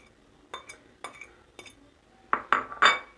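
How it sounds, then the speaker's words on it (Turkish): Spoon knocking and scraping in a bowl while white cheese and spinach filling is mixed for rose börek, a series of separate clinks that grow louder and closer toward the end, with no voices. "İyice karıştırıyorum peynirli ıspanağımı."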